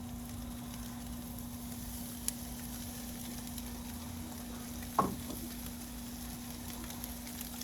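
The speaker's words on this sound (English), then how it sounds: "All we're gonna do is put our steaks on the grill." Steaks searing on a ripping-hot grill around 800 to 900 degrees to char the outside, heard as a faint, steady hiss with a low hum and one brief clack midway.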